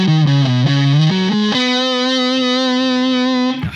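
Electric guitar on the front pickup, Germaniac pedal off, playing a quick run of shifting notes that settles into one long sustained note with a gritty, slightly distorted edge, loud and alone.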